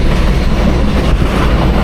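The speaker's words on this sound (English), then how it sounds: "Subway, loud ass Subway." A loud subway train rumbles past close by on a Bronx street in New York City, a dense roar of wheels and rails filling the whole clip.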